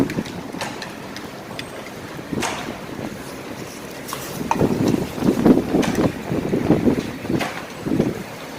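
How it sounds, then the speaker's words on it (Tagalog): Very strong wind roars and gusts during a sandstorm in the UAE, a constant rushing buffet on the microphone that swells louder in the second half. "napakalakas ng hangin."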